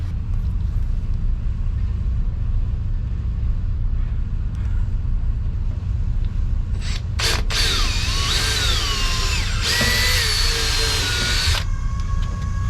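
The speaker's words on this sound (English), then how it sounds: "Right now he's doing a little screwing and gluing." A power drill whirs in loud bursts while driving screws into a boat dashboard panel inset, over a constant low engine-like hum, with a ratcheting, whining stretch in the latter half.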